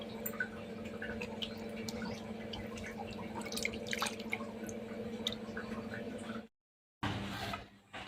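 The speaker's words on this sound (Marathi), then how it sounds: "आता आपण स्वच्छ पाण्यामध्ये धुवून घेऊ." Raw mangoes being washed in clean water, with steady dripping, splashing and trickling sounds over a constant low hum, then a brief silence and more water sounds at the end.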